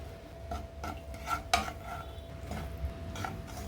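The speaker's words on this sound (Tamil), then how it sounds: "இப்போ ஒரு கடாயில் நெய் விட்டுக்கிறேங்க. இதில் வறுத்து பொடி பண்ணி வச்சுருக்கிற பவுட்ரை சேர்த்துக்கிறேங்க." Sago powder roasting in ghee in a kadai is stirred with a metal utensil, producing soft repeated scrapes and light clinks against the pan at a slow, uneven pace, close and fairly quiet, with no talk.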